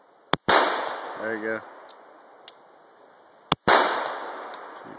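Two sharp, loud Glock 41 Gen4 pistol shots, a few seconds apart, each with a short ringing decay. A brief voice speaks between them.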